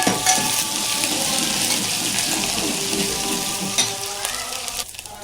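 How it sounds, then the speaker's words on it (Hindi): Ginger, garlic and chili sizzle in a spoonful of hot oil as the base for a gravy. The frying crackles steadily and close by, with stirring noises and no speech. "इसको अच्छे से भुनेंगे।"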